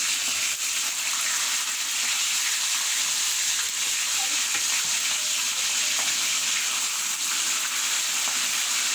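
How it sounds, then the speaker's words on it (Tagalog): Fish sizzling as it fries in hot cooking oil, a dense, steady hiss and crackle that carries on without a break for the whole stretch, close and loud, with no voices. "mainit na yung ating mantika ay pwede na natin ilagay ang isda"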